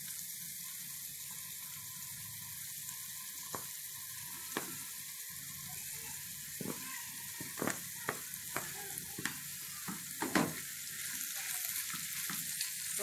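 Meat sizzles and fries with onions in a pan, a soft continuous crackle broken by several sharp scraping clicks from stirring and turning.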